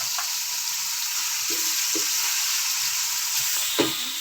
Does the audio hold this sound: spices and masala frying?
yes